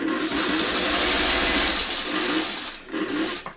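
A sewing machine stitches quilt blocks for a Tree of Life quilt, running in a steady, close whirring burst that slows and pauses briefly before starting up again near the end.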